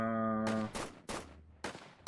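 Machine gunner towers fire in a tower defense video game: four or five sharp, loud bursts in quick succession, each cutting off abruptly, following a brief steady tone.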